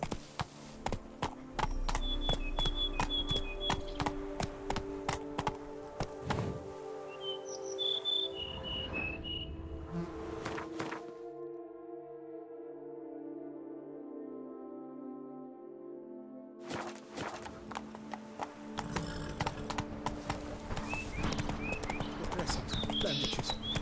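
Hooves of a horse clip-clop at a steady gallop in The Witcher 3: Blood and Wine, with insect chirps and game ambience around them and a brief near-silent gap partway through.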